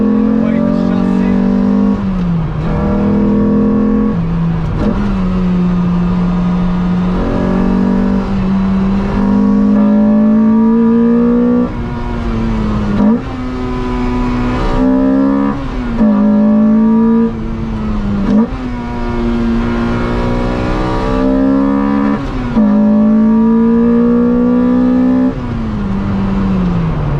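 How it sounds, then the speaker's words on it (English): A loud Lotus sports car engine revs up and down repeatedly, pitch rising and falling as it accelerates and shifts through corners, continuous and close. "The way the car just simply dives into the corners is fantastic."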